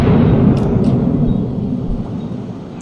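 Deep booming rumble of ship guns firing in World of Warships, a heavy low roar that swells at the start and slowly fades, loud and close with no talk over it.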